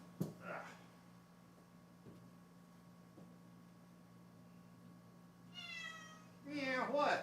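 An indoor pet cat meows twice near the end, a moderate cry followed by a louder, insistent one, after several seconds of near silence broken by faint knocks and a soft voice at the start.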